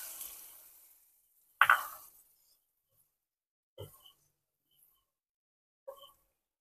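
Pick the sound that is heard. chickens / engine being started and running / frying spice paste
frying spice paste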